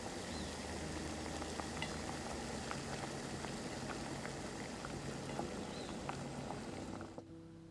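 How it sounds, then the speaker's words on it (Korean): Water at a steady rolling boil in a pot, readied for cooking noodles for an anchovy noodle soup, a dense continuous bubbling wash that holds evenly throughout before dropping away abruptly near the end. "면을 삶아야겠네요."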